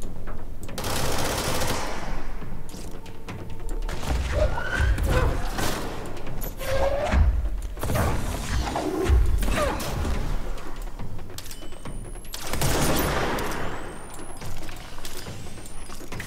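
Gunfire in the video game Control, bursts of shots with sharp broadband cracks around two and twelve seconds over a constant game ambience, with mechanical clicks and creaks between them.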